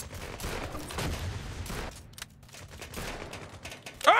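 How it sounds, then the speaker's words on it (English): Gunfire from the video game Apewar crackles in rapid bursts, with sniper shots and overlapping volleys loud in the first half, then quieter, sparser shots and a sharp final crack at the end. "I just got sniped by Wallace."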